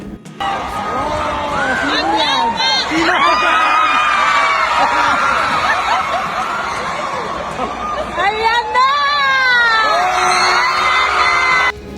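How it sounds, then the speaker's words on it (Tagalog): A large crowd at an LGU Night 2024 event in Ormoc shouts, whoops and cheers continuously, with excited voices and children's yells rising above steady chatter. "Sigawan ng mga tao na dumalo sa naturang okasyon"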